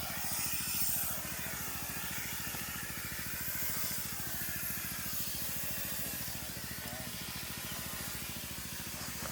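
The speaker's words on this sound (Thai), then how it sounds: "เวลาพ่นยา มันจะทะลุมาทางนี้เลยนะครับ หัวพ่นยาเห็นไหมเป็นละออง" A pesticide sprayer nozzle sends a fine mist over durian trees, giving a loud, continuous hiss over the low, steady pulsing drone of a pump engine for the whole stretch.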